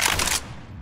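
A flashbang grenade goes off in the CS:GO video game on the Cache map, a loud bright burst at the start that cuts off sharply and leaves a lower rumbling tail.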